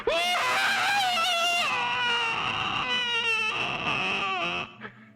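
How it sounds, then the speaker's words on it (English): A person screams, playing a soul being torn from a body. One long, loud, wavering wail rises and breaks in pitch, then fades out abruptly at the end. "You can hear me in episode 4 as my soul screams as it is rent from my body."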